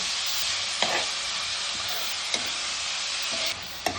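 Onions softening in hot oil in a pan for paneer bhurji give a steady, loud broadband sizzle, broken by a few sharp spoon scrapes and clinks against the pan, with no talking.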